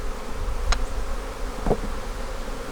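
Angry honeybees buzz at a hive in a dense, continuous drone, with individual bees zipping close past the ear as sharp passing whines.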